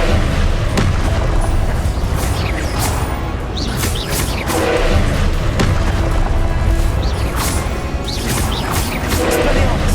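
Confringo blasting spells in Hogwarts Legacy burst in a battle, with several booming explosive impacts scattered over a steady din of combat noise, loud and close.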